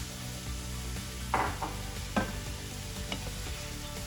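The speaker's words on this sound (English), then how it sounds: "Give them a good stir." A spoon stirs sweet potatoes and kale in a pot over gentle sizzling, with a few soft scraping knocks against the pot standing out above the steady frying noise.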